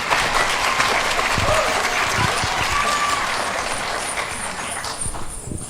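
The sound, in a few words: applause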